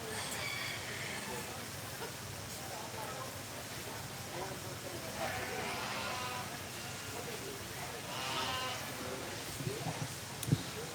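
Heavyweight home-raised meat goats from Lancaster County at a 4-H and FFA fair goat show bleat in scattered calls amid a busy barn crowd, with someone talking over a loudspeaker throughout.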